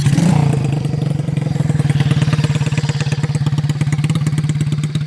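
A 2007 Kikker 5150 110cc kick-start mini bobber with a four-speed gearbox sputters to life up close, then settles into a steady, loud, rapidly pulsing single-cylinder idle.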